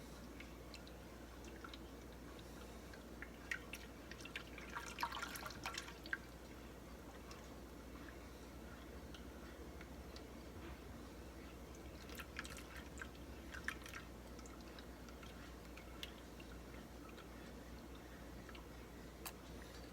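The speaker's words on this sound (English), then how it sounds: "So you want to continue stirring." Thick moustalevria of grape must, flour and corn flour being stirred in a pot gives faint, soft squishing and sticky wet sounds with occasional scrapes, quiet and steady throughout.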